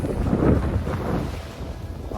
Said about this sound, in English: And the wind is starting to pick up a lot.